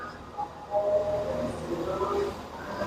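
A train pulls out along a station platform at Edinburgh Waverley Station, its low rumble and squealing wheels steady at mid distance, with faint voices in the background.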